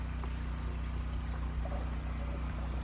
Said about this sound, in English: So we click drain. And we have it pouring into the gray water holding tank out here.